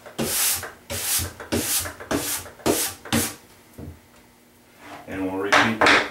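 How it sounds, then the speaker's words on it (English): Fluorinated racing wax is rubbed onto a snowboard base in six even, scratchy strokes close by, each a rough swish, followed by a pause and a short burst of talking with more rubbing. "we'll just put our layer of fluorinated racing wax on the board"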